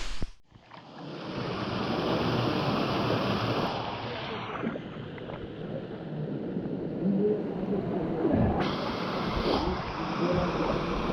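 Someone swimming across a river between cliffs, steady broadband splashing and rushing water close to the microphone with wind buffeting, continuous throughout.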